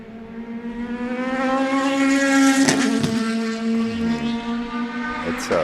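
Race cars at Sebring run through a corner, a strong steady engine drone with clear harmonics that rises and holds, then eases slightly as the cars pass. A brief faint voice is also heard.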